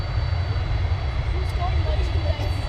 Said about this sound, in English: you might hear in the background the big mighty 747 engines revving up